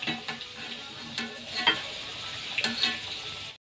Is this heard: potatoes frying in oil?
yes